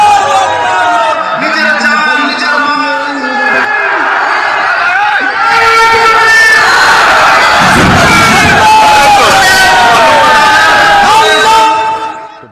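A large crowd gathered on rooftops, windows, balconies and trees in Varanasi, India, cheers and shouts continuously, loud and dense throughout, with a commentator's voice talking over the roar.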